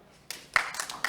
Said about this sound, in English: if you can hear me, give me one clap